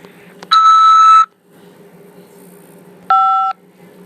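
Two dual-tone phone keypad beeps, one held about a second and a shorter one a few seconds later, loud and clean against a quiet line hum, pressing 5 to accept a call from a corrections facility.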